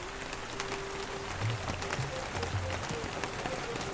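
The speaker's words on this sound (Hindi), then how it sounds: "इतनी तेज बारिश है" Steady, dense rain hissing evenly throughout, with faint low tonal sounds drifting underneath.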